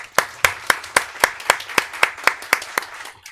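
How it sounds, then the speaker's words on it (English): An audience at a seaweed industry forum claps in a slow, even rhythm of about a dozen loud, distinct claps, close and without any talk. "Let's clap."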